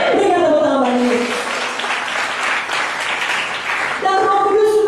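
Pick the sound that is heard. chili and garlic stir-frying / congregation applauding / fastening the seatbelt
congregation applauding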